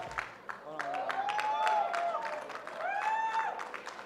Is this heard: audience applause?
yes